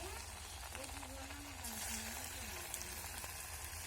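Bottle gourd fritters frying in hot oil, a steady crackling sizzle heard under a voice speaking throughout.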